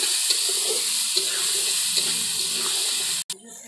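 Carrot, capsicum and beans fry in a pan with salt, cinnamon, cardamom and cloves for vegetable fried rice, making a steady close sizzle with faint stirring that cuts off abruptly near the end.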